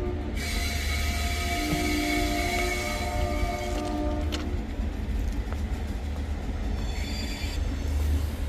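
Loud rail noise on a platform at Varanasi Cantt railway station: steady rumbling wagons with high squealing wheel tones that fade and return, and no talk.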